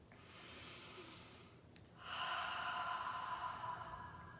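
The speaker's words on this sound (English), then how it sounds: "Letting yourself fill up with air and then empty out with the breath." Slow, deep breathing during a guided relaxation session: a long, soft inhale, then a louder, fuller exhale that swells and holds steadily near the listener.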